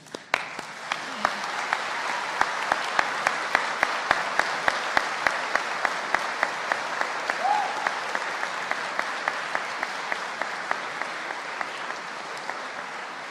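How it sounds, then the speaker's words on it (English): A University of Northampton graduation audience in summer 2018 gives a long, enthusiastic round of applause. Dense clapping fills the room, and a few sharp, regular claps stand out near the microphone. "give a huge round of applause for everyone in this room and the University of Northampton's class of 2018"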